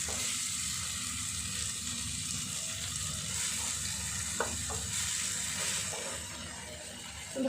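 Goat liver sautéing in a pan for mete chochchori, a steady close sizzle with occasional stirring scrapes and clinks, even in loudness throughout.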